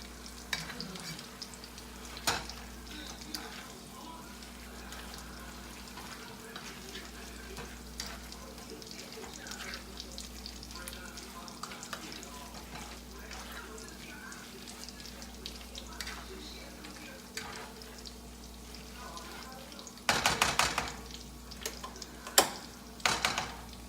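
Veggie pasta being mixed with sauce in a pan, a long stretch of steady stirring and soft sizzling with wet scraping, close and fairly even, ending in louder clattering strokes near the end, with faint voices in the background.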